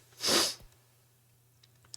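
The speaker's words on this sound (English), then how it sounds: "that sneeze snuck up on me" A single sharp sneeze bursts out near the start, followed by quiet with a faint low hum and a small click.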